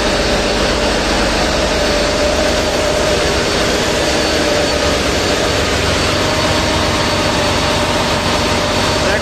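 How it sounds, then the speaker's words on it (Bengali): A huge 3200-horsepower engine runs in the engine room of a passenger river launch on the Barisal route. It gives a loud, unbroken, heavy roar and drone that stays steady throughout, with no voices. "3200 হর্স পাওয়ারের ইঞ্জিন"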